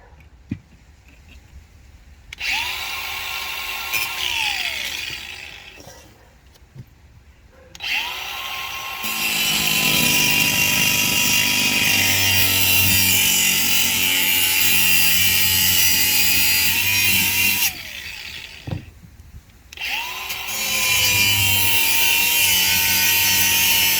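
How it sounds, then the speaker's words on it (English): Power saw cutting square steel tubing for a fuel cell mount in a J-swap Honda Civic, loud and sustained over about twenty seconds with two short pauses, the blade whining steadily through the metal. "So I'm gonna cut a piece that's 25 and an eighth."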